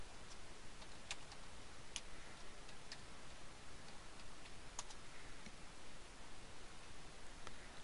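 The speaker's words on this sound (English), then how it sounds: "We're just going to type in affiliate program." Keys on a computer keyboard tapped in a quiet room, a sparse run of faint, light clicks at irregular intervals over a soft background hiss.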